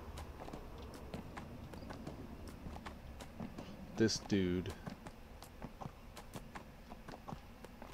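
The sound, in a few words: horse hooves galloping in video game Neverwinter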